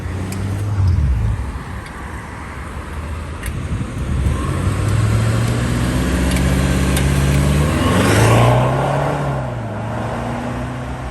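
A V8 TDI diesel car accelerates hard with a rising turbo whoosh and engine note that climbs and peaks near the end, loud and close from inside the car.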